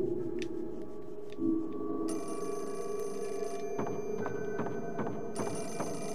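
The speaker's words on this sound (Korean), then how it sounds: "전화기가 울리는데 한번 받아보자" An old telephone rings in the survival horror game Fatal Frame IV: Mask of the Lunar Eclipse, a clear, continuous electronic bell trill that repeats over a quiet, eerie ambient background.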